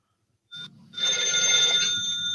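An old-style telephone bell rings, not a cell phone tone: a brief ring, a short pause, then a loud, continuous metallic trill that runs for over a second, close and clear.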